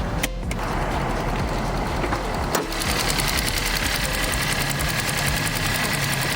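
A 2018 Hyundai Accent engine idles steadily with an even mechanical rumble and a light ticking rhythm, close and unbroken, with no talk over it.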